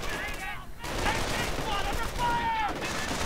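Aircraft strafing run gunfire in a WWII strategy video game, dense rattling bursts mixed with battle noise and whistling tones, someone talking over it.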